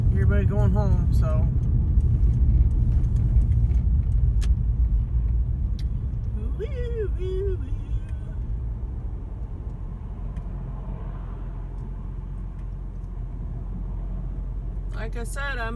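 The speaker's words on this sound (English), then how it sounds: "Traffic hour. Everybody going home," Rush hour road traffic rumbling past, a steady low drone of cars and heavier vehicles with occasional brake hiss, while someone talks over it early on.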